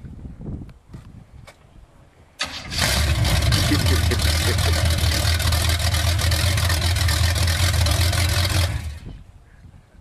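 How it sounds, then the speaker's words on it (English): A 1977 Corvette with a 350 V8 and open headers starts abruptly and idles loud and close with a deep, rough, steady rumble for several seconds, then shuts off, with faint talk before it fires. "So this is a 77 Corvette with a 350 open headers."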